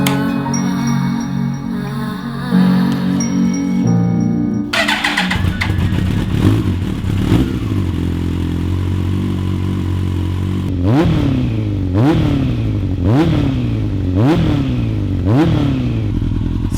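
A Yamaha R1 sport motorcycle on a project bike cranks over and fires up, settles into a loud, close idle, then gets a series of sharp, evenly spaced throttle blips that rise and fall one after another.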